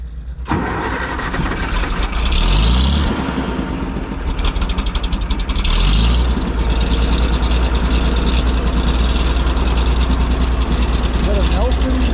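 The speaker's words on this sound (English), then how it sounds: "Is that a Nelson muffler on there? Sounds like it leaks a little bit." An MM 4x4 engine with a slightly leaking Nelson muffler cranks and catches, then settles into a loud, steady, close idle with a constant low rumble, and voices can be heard faintly under it.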